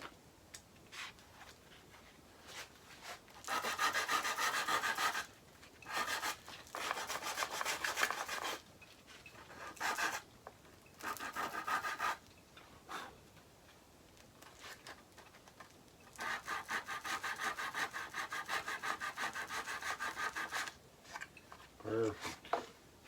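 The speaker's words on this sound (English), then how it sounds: "Sand that off." A wooden guitar body sanded by hand, with long bursts of close, raspy rubbing strokes separated by short pauses and a brief tonal sound near the end.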